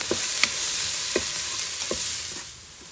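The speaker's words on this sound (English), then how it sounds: "drop in a tablespoon of garlic." A tablespoon of garlic fries with browned onions in a Ninja Foodi pot, with a continuous hiss of hot oil and a few soft, evenly spaced stirring scrapes close by.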